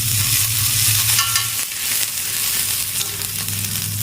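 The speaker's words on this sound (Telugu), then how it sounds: "నేను రోస్ట్ కాల్చుకోవాలి మళ్ళీ కొంచెం వెన్న వేసుకుని" A sandwich roasts in butter in a hot pan, giving a loud, continuous sizzle and crackle with scraping and stirring from a utensil against the pan. There are no voices.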